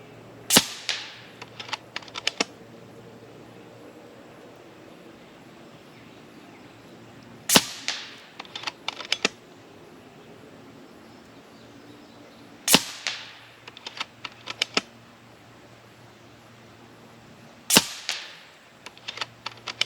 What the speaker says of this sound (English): Shoot our next 5-shot group.